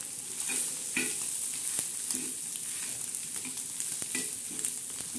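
Egg bhurji with green chillies and onion sizzles steadily in a pan, broken by repeated scraping and flipping strokes of a spatula at an uneven rhythm, close by with no talking.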